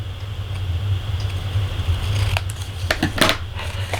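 Scissors trim flaps from cardstock for a pop-up vase birthday card, a few short, close snips late in the moment over a steady low mechanical hum.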